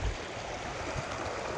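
A large trout river flows in a steady, broad rush of water, a constant close hiss and gurgle with no voices over it.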